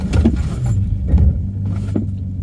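A car rolls at about 30 mph and brakes to a stop during a tire braking-distance test, heard from inside as a loud, low road rumble with bumpy tire and cabin noise and no voices.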